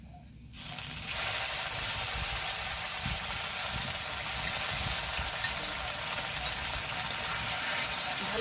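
Garlic, cumin and coriander paste sizzling in hot oil as it is stirred and fried for a village-style fish curry, a loud steady hiss that starts abruptly and carries on close.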